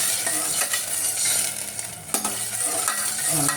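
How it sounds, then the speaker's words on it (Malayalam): Jaggery powder heats in a pan for chickpea payasam, with a steady bubbling hiss and the scrape of a stirring spoon, including one sharp clink partway through. "ഞാൻ എടുത്തേക്കുന്ന ശർക്കരപ്പൊടി നമ്മളൊന്ന് ഇതുപോലെ ഇതിൽ വെച്ചൊന്ന് തിളക്കാം"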